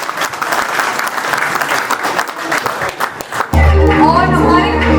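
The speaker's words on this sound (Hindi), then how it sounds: "तालियां हो जाए, कम ऑन एवरीवन" Applause from a large audience at an award ceremony during a corporate laminates event in a hotel banquet hall, dense steady clapping for several seconds that gives way to loud music with a strong bass beat.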